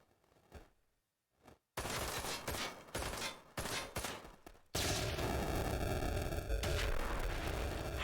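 Video game explosions and gunfire from Ride to Hell: Retribution come in a burst of loud blasts and crackling reports, followed by a sustained roaring, noisy rumble.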